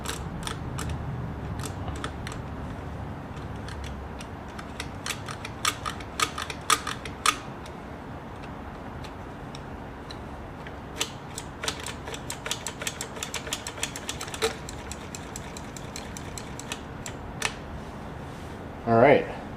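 The pattern selector mechanism of a Singer 620 Touch and Sew sewing machine moves, giving repeated sharp mechanical clicks and ticks in irregular bursts over a steady low hum, close up, with some talking mixed in.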